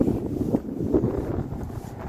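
Gusty wind buffets the microphone in uneven low rumbles in a cemetery in North Hero, steady throughout with occasional stronger pushes and no voices.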